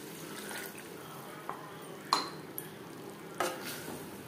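Potato, pointed gourd and paneer curry cooks in a pan over high to medium flame, giving a steady soft sizzle with a few sharp stirring clinks and scrapes scattered throughout.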